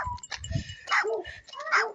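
A small dog outdoors lets out a series of yips and barks, some higher and whiny, fairly close and mixed with faint background noise, with no clear talking.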